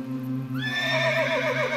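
A horse whinnies close by, a rising-then-falling neigh that starts about a third of the way in and carries to the end over a steady low background hum.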